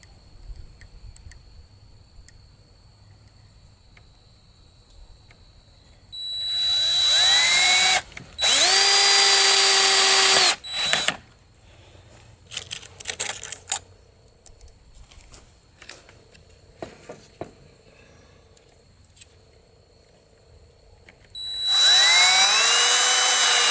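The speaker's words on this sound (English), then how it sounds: "All you have to do is line it up and screw them in." A power drill drives screws into the panels of a two-panel privacy screen, in two long loud whirring bursts with rising pitch, separated by short clicks and handling clatter near the mic.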